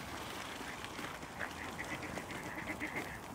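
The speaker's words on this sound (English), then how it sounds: "We're herding the ducks." Ducks quacking at a garden centre animal area, a few soft, distant calls scattered over steady outdoor background noise.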